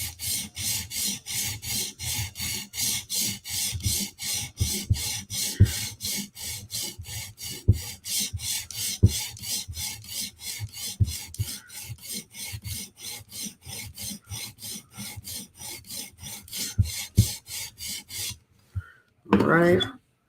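A knife is honed toward a mirror edge with rapid, rhythmic rasping strokes, dozens of evenly spaced passes close up. They stop briefly near the end before a short scrape.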